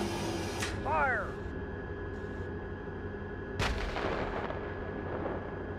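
A tank gun fires one heavy, booming shot in the middle of a crew engagement, loud and sharp with a rumbling decay, preceded by a brief tonal radio chirp over a steady engine hum.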